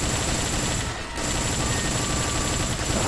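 Rapid enemy gunfire in the stealth action game Metal Gear Solid 3: Snake Eater, a dense continuous rattle of shots with a brief dip in the middle, loud and steady with no talking.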